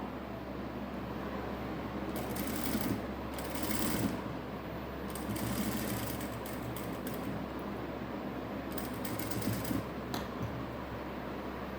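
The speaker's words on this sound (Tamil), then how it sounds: "இப்போ நம்ம இது மேலே இன்னொரு தையல் போடுவோம்" Sewing machine stitching a blouse border runs in three short whirring bursts, faint and steady, separated by brief pauses over a low room hum, with no talking.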